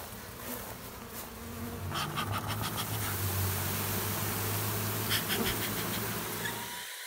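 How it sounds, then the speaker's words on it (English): Honey bees buzz steadily and loudly up close while frames are moved from a hive into a nuc, with a dense drone throughout and a few clicking knocks of the frames. No one speaks. "I'm trying to transfer bees over into a nuke right now"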